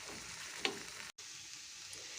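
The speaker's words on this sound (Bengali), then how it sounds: "এই যে এটাকে এরকম অল্প তাপে রেখে আমি অনেকক্ষণ ধরে এরকম উল্টে পাল্টে" Faint, steady sizzling of food frying over low heat, with a brief clink or scrape of stirring early on and a short dropout midway; no one talks.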